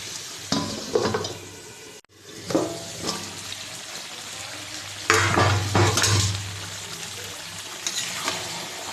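Two kilograms of mutton stirred in a pan, with repeated scraping strokes in uneven bursts over a steady low sizzle of frying meat, close and moderately loud.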